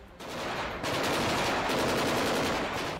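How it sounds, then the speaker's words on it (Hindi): A tank-mounted machine gun fires rapid, loud, dense bursts of gunfire that merge into an almost continuous roar near the Ukraine–Belarus border, with no voices. "एक टैंक पर लगाई गई मशीन गन से ताबड़तोड़ गोलियां बरसाई गईं।"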